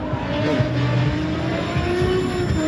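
A semi-pro drift car engine revs loudly and continuously up close, its pitch rising and falling with a rough, throaty drone.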